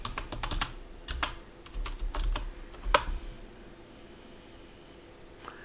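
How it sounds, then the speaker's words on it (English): Password being typed on a computer keyboard during SSH setup for a Raspberry Pi running Ubuntu Server; a quick run of close key clicks in the first three seconds, then quiet room tone. "We're going to now type in the password."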